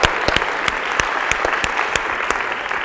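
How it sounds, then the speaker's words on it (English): Steady, dense audience applause at a horn masterclass in Los Angeles, loud and continuous with a few sharper individual claps standing out. "A big round of applause for Arturo."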